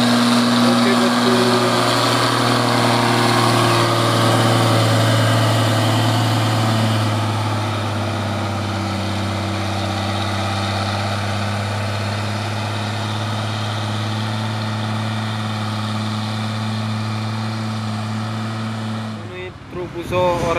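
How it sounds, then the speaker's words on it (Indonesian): An orange Fuso truck laden with a load grinds uphill on a steep slope, its engine droning in a steady, heavy low rumble for about twenty seconds before cutting off abruptly, with someone speaking over it. "Ini truk Fuso oren bosku."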